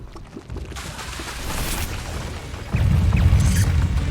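Incendio fire spell cast in Hogwarts Legacy, a whooshing burst of flame that swells into a loud, roaring rumble, layered with crackling combat effects.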